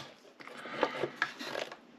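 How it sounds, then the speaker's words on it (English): Side cutters snip off wooden ends on the model of an Artesania Latina 1848 stage coach, giving a few quiet, close crunching clicks and scraping rubs spread over two seconds. "I'm just sitting here with a pair of side cutters and just cutting them off."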